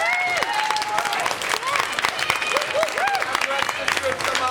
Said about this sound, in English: We'll get a round of applause for them.